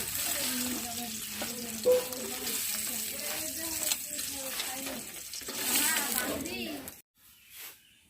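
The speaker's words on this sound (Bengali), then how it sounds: "ডিমগুলো ভেজে নেওয়া হয়ে গেছে, এখন আমি তুলে নিচ্ছি।" Fried eggs lifted out of hot mustard oil in a wok, a moderate sizzle with scraping and bubbling under a voice talking, ending in near silence with a faint last clink.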